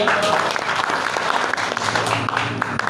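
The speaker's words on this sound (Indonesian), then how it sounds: "Tepuk tangan Ustaz." Audience applause during a presentation-skills session, a short burst of brisk clapping from a seated crowd with a faint voice mixed in.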